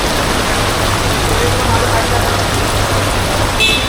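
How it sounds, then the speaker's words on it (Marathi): Heavy monsoon rain pours down without a break, a loud, dense and steady roar filling the whole stretch. "आज पाऊस बघ दिवसभर चालू आहे"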